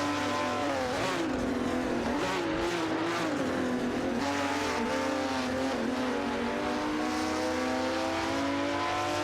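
Race cars in the Live for Speed racing game roar continuously, engines revving and shifting pitch as several cars run close together, with some tire squeal, loud and unbroken.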